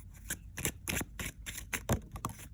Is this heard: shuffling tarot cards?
yes